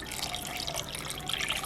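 Two cups of water are poured into a crockpot while cooking in a home kitchen, a faint, steady trickle and splash close to the microphone.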